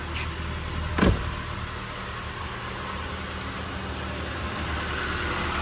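A Ford EcoSport petrol engine idles steadily after injector cleaning, a close, even hum with one brief clunk near the start and no talking.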